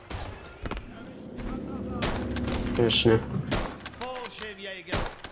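Gunfire in the World War II shooter game RAID: World War II, with several sharp shots spread across the stretch over game background noise, while players talk over it.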